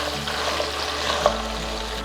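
Crabs, about 1.5 kg, frying directly in hot oil for a Telugu crab curry, giving a steady close sizzle with faint stirring clinks throughout and no talk.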